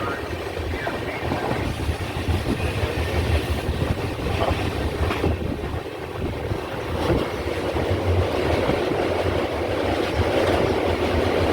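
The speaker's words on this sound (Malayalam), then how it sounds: "അങ്ങനെ ചിറയൻകീഴിൽ നിന്ന് വണ്ടി എടുത്തു." Island Express passenger train pulling out of Chirayinkeezhu station in Kerala, heard from inside as a steady loud rumble of wheels and rolling carriages with wind noise, faint voices underneath.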